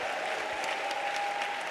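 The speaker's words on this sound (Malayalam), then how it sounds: "പോരാ, കൈയടിച്ച് സ്വതന്ത്രം പറ." Congregation clapping during a Sunday service at IPC Prayer Centre in Thiruvalla, a continuous roomful of hands beating together with a faint steady tone beneath, no words spoken.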